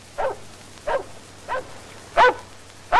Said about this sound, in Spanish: Ay, qué bonito perrito.